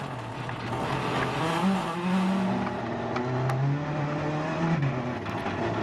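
A private Mini rally car at WRC Portugal 2013, its engine note rising and falling as it drives past, with tyre and gravel noise and a fairly steady loud roar throughout.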